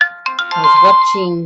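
A mobile phone ringtone plays a loud, close, melodic tune of bright tonal notes with a voice-like quality, lasting only a moment.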